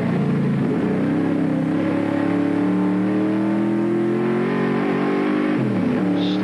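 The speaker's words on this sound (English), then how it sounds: "A deep-throated rumble of the big Falcon, contrasting with a high-pitched whine of the Mazda RX-7s." Race cars at a 1983 AMSCAR round at Amaroo Park, among them a big Ford Falcon and Mazda RX-7s, drone loudly and steadily as engines rise and fall in pitch through gear changes, a continuous close roar.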